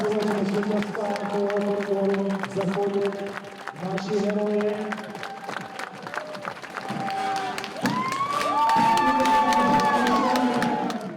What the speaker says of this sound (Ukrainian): Їх на 70-метрову дистанцію проводять оплесками.